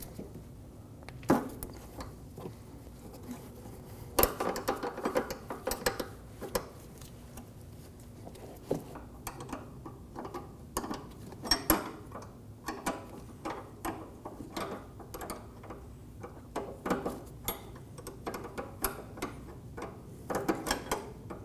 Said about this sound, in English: I'm going to use a 17mm wrench to hold the brake line still while I crack this fitting free